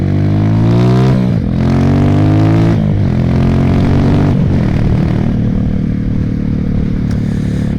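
A Honda FTR223 motorcycle revs loudly and close, its single-cylinder engine climbing through the gears in rising pitch sweeps with brief drops at each shift, then settling into a steady roar with some mechanical clatter as it runs down a straight.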